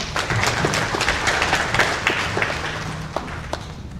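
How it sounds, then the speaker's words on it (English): Steady audience applause for a chief financial officer being welcomed to the stage at a business talk, a dense crowd of clapping hands that holds at an even level for about four seconds. "Let's give John a round of applause."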